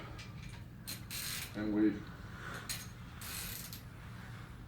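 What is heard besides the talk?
jack bolt being turned during seal install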